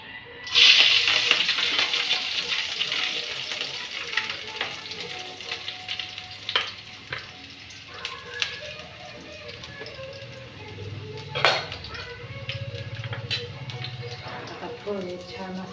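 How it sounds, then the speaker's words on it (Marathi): Peanuts with curry leaves and chillies fry in a pan for poha, sizzling and crackling steadily up close. A sharp burst comes at the start, with occasional stirring clinks over several seconds. Softer background sounds run underneath. "शेंगदाणे तळून घेतले छान असं"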